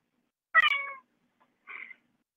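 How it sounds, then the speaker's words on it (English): A cat meows twice, close and clear, a longer call followed after a short pause by a briefer one, against an otherwise silent background. "I just heard a cat."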